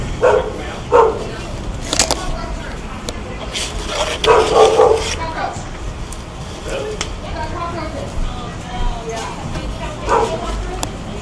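A dog barks in short yips and woofs at moderate distance, a few bursts spread across the stretch, with a person's voice nearby and faint outdoor background.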